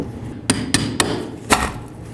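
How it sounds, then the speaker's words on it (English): A hammer strikes a brass punch against a fuel pump lock ring on a 1992-2000 Chevy Tahoe, four sharp metallic taps spaced unevenly, close and loud with no talking. "Once you have that loose, you need to use a brass punch. Come along one of these edges right along here with a hammer"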